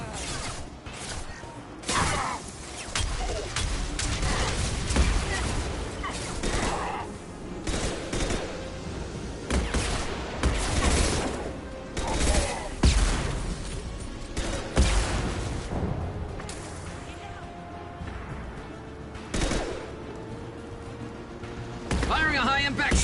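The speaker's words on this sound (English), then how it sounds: "Firing a high-impact shot!" Rapid high-impact gunfire from a Mass Effect 2 firefight, dense volleys of loud cracking shots and bursts repeating throughout, with whooshes, crashes and voices mixed in.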